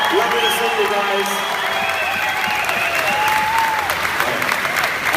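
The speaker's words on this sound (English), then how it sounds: "Ladies and gentlemen, give a huge round of applause." Dense, sustained audience applause from a convention crowd greeting the Star Trek cast at a fan event, steady and loud throughout, with whoops and voices mixed in.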